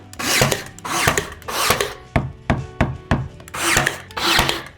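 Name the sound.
nailing wall paneling to a stud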